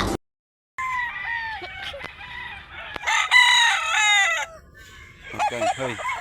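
Roosters crow repeatedly on a farm, several loud drawn-out cock-a-doodle-doo calls overlapping, with hens clucking between them, close and clear.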